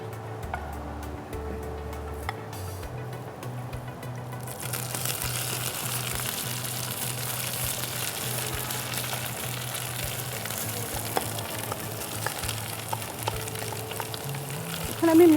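Food fries in a pan while chicken katambari kebab is cooked, a steady crackling sizzle running throughout with faint clinks, growing denser after the first few seconds.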